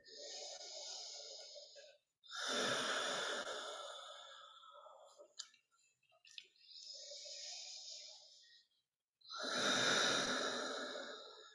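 Slow, deep breaths during a chair yoga session: long audible inhales and exhales, close and clear, separated by short pauses, with a few faint shuffles between breaths.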